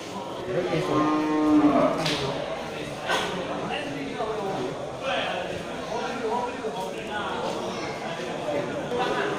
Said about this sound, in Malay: sekeliling dari lapak punya Bang Iqbal juga banyak terlihat ini sapi Aceh ya